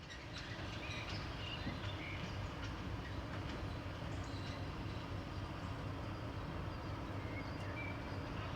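An SM42 diesel locomotive with a local trip freight train gives off a faint, steady rumble with soft clatter, heard from a distance without voices.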